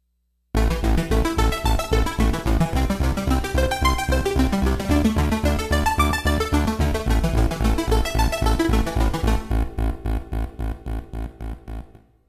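Roland SH-201 synthesizer in split mode, a deep pulsing bass in the lower tone under a fast arpeggiated patch in the upper tone, driving steady rhythm played loud and close, thinning out to the bass pulse alone at the end.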